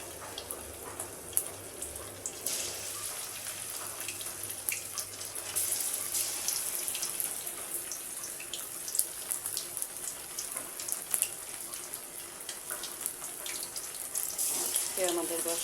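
Curry leaves dropped into hot oil in a home kitchen crackle and sizzle in a steady broadband hiss for the whole stretch, with scattered sharp pops and a brief clatter near the end, no one speaking.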